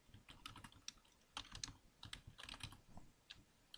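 Rapid, uneven keystrokes on a computer keyboard as a command is typed into a Linux server terminal, clicking in short bursts with brief pauses, close and fairly quiet, no voices.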